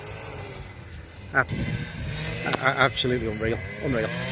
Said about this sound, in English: trimming the grass at the moment, so apologies for that noise